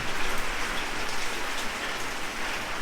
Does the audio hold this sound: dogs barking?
no